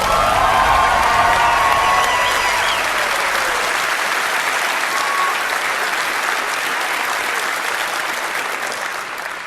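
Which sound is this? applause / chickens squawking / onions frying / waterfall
applause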